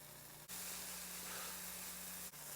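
Onions and peppers sautéing in butter in a pan for venison chili: a continuous broad sizzle, briefly dipping twice, over a faint low steady hum.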